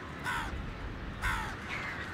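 Crows caw outdoors at a lively spot in Sri Lanka: two or three harsh calls, moderately distant, over faint ambient background noise.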